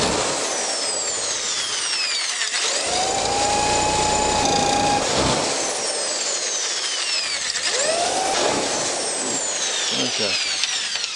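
A drill bores holes through a steel lock plate in several bursts, with sweeping whines as the bit spins up and down and loud grinding between them.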